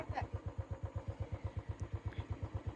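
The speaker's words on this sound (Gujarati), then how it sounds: "હવે આપડે બુલેટ ઉતારીએ બુલેટ હવે ઉતરતા છે કે કેવું" A Royal Enfield Bullet motorcycle engine thumps at a steady, even idle-like pulse while the bike descends, loud and close, with a brief voice in the background.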